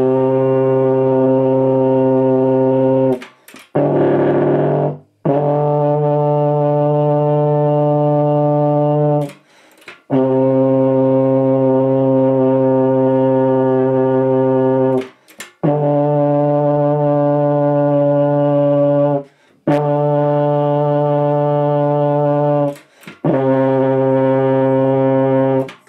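A beginner plays a tenor horn, sounding about six long sustained brass notes separated by short breath pauses, loud and close, with a slightly wavering pitch and no talking.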